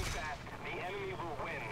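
A Do 217 J-1 bomber's 40mm cannon firing in War Thunder, a string of rapid, fairly loud bursts with a roaring engine and voices beneath.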